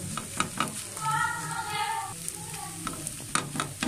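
Egg being chopped into small pieces with a spatula in a pan after frying, for egg fried Chinese rice; repeated scraping taps and stirring over a low sizzle, close and fairly quiet.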